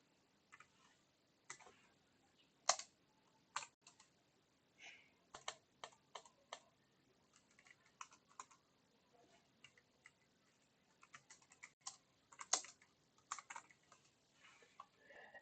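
Code in C is typed on a computer keyboard, with sparse, faint, irregular key clicks and short bursts of taps spread over a quiet background.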